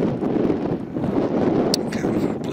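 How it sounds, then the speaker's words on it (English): Strong wind buffeting a microphone outdoors during a metal detecting outing, a continuous low rumbling roar that stays loud and steady throughout with no break. "Bloody wind."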